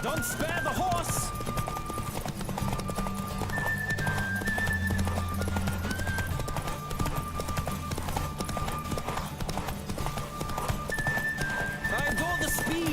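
Hooves clip-clop rapidly in a steady galloping rhythm during a horse race in The Witcher 3, with occasional neighs, layered game music and a voice talking over it.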